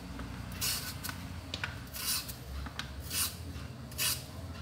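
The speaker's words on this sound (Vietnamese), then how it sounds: "Rồi mình dùng dao bào mình bào sạch cái vỏ bên ngoài." Green banana skin being shaved off with a vegetable peeler, giving four or five short, close scraping rasps at a steady rhythm over a quiet background.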